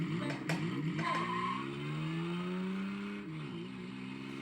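An electronic racing-car engine from a 1000 Mile Rally arcade cabinet hums and climbs in pitch, with brief tire-screech bursts at the start, fairly quiet and without voices.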